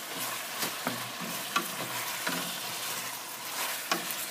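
Rice and veal cooking in a pan for a Djibouti-style dish, with a soft continuous sizzle broken by several sharp scraping stirs of a utensil against the pan, close and fairly quiet.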